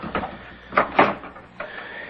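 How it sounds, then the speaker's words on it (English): An indoor door is opened with a few soft wooden knocks and a latch click, fairly faint and heard alone without talk, in a quiet domestic room. "would you open the door, please?"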